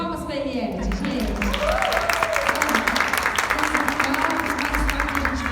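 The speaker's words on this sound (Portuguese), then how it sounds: "gente, palmas para Eliette, gente." Applause from a gathered church women's group breaks out and holds steady for several seconds, a dense, fairly loud wash of clapping with voices mixed in underneath.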